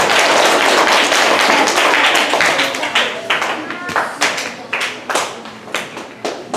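An audience claps loudly for teachers and parents at a school gathering, a dense burst of applause that thins into scattered, separate claps toward the end.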